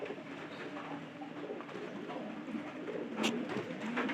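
Pigeons cooing inside a pigeon loft, soft repeated low coos close by over a dense bed of rustling and murmuring birds, with no speech.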